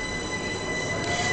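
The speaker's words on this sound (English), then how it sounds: "My train's going back to Bognor." Train wheels squealing as a train pulls out of Barnham station, a loud continuous high-pitched metallic screech over a steady rail rumble, close by and uninterrupted, with no voices.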